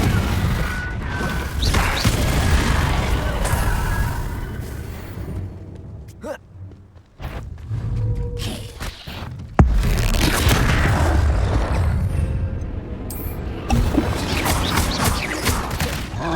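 Confringo blasting spells detonate in the Hogwarts Legacy video game, producing repeated loud booms and crashing blasts with rumbling debris in a busy combat mix, interrupted by a brief quieter lull before the explosions resume.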